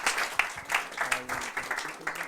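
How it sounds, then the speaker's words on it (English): Audience applause at a London startup pitch battle event, a steady wash of clapping from a crowd lasting a couple of seconds, moderately loud with a few louder peaks. "let's give him a round of applause from HubSpot."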